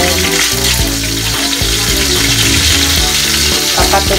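Lumpiang shanghai spring rolls turning golden brown as they fry in oil: a loud, dense sizzle layered under steady tonal music, continuous and close with no talking.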